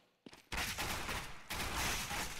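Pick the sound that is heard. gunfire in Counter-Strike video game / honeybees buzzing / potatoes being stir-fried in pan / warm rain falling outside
gunfire in Counter-Strike video game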